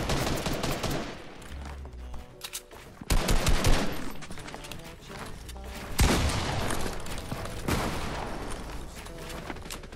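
Rapid gunfire in Fortnite, a 2v2 zone war match, with repeated sharp shots and several louder bursts spread across the stretch, crackling close and busy throughout.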